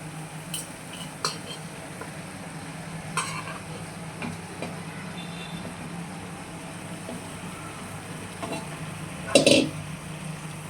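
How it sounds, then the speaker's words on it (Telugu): Salted, spiced chicken pieces go into a pan for a chicken gravy curry, with a low steady sizzle under sporadic metallic clinks and scrapes of a utensil, ending in a louder clatter near the end. "ఇలా చికెన్ మొత్తం ఇట్లా వేసుకొని"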